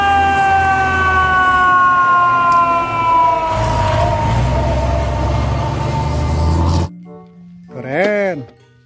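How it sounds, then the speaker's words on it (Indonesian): A fire engine siren wails loud and close, its rising and falling tones sweeping for several seconds over rumbling traffic, then cutting off before a short final whoop. "Wadidaw, ada mobil pemadam kebakaran."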